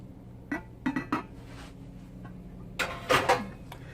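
A large six-quart cooking pot is handled in a home kitchen during vegetable stew prep: several sharp metallic clanks and clinks, three spaced knocks early and a louder cluster near the end, with quiet gaps between.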